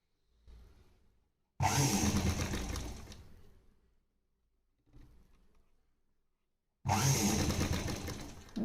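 A sewing machine stitches fabric in two quick, loud, close whirring bursts separated by quiet pauses, with faint soft handling sounds between runs.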